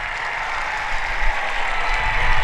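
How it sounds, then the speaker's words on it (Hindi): Audience at a rural Olympic sports event in Rajgarh applauds, a continuous wash of clapping at moderate level that swells slightly toward the end. "एक बार पुनः मैं आप सबसे जोरदार तालियों की अपील करती हूं"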